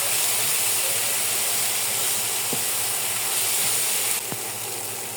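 Deshi chicken fries with turmeric, chili and coriander powder, giving a steady close hiss and sizzle throughout, broken by a couple of faint scrapes from the pan.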